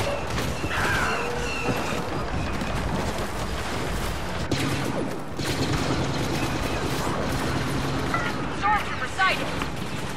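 Rapid blaster fire and explosions in a Star Wars battle game as troops fire on an AT-AT walker, making a dense, loud, continuous barrage of shots and mechanical clatter with high zipping tones, voices shouting over the din.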